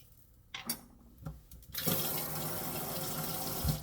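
Cold tap water running to cool a burn in a kitchen: a few knocks and clunks, then the faucet opens into a steady, fairly loud gush of water splashing into the sink.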